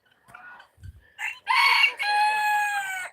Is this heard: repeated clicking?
no